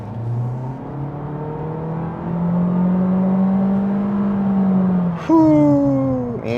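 A 2026 Honda Civic Sport accelerates from inside the cabin, its engine whining up steadily and rising in pitch, then dropping briefly on an apparent shift before climbing again near the end.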